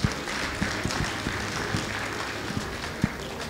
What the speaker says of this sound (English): A round of applause as he comes.